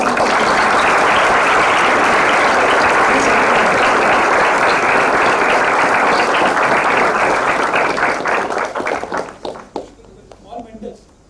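An audience applauds loudly and continuously at an academic bioengineering session, the dense clapping sustained for several seconds before thinning into scattered claps and fading out.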